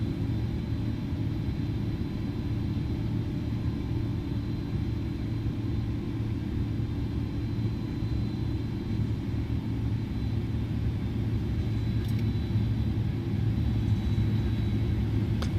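Airbus A310 engines in a flight simulator hold a steady, continuous low roar and rumble that builds slightly toward the end, with no talk over it.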